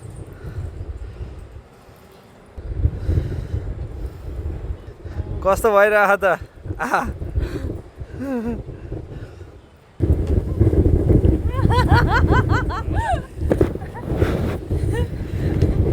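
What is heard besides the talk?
wind blowing outdoors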